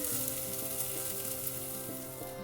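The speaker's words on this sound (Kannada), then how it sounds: "ತುಂಬ ಹೊತ್ತೇನು ಫ್ರೈ ಮಾಡೋದು ಬೇಡ, 1-2ರಿಂದ 3 ನಿಮಿಷ ಫ್ರೈ ಮಾಡಿದ್ರೆ ಸಾಕು." Masala for togarikalu saaru frying in a pan, a steady, close hiss of oil with a faint crackle and a few soft clinks of stirring, no voices over it.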